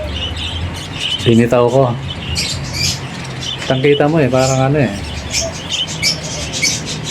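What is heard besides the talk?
pet budgerigars squawking in their new cage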